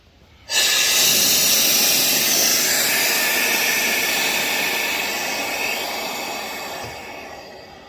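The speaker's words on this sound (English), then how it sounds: "Pneumatic engine lift. Love this thing." A pneumatic engine lift releases a loud, sudden burst of hissing air that begins abruptly and continues as a steady rush, slowly easing in volume toward the end.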